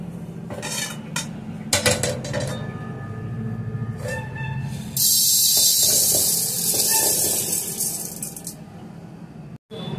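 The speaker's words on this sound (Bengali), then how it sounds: "তা চলুন ডালটা ভালো করে ধুয়ে নিই।" Red lentils and young green hog plums washed in a metal pot: close clinking and scraping of utensils against the pot, followed by a loud steady rush of running water, with no talk.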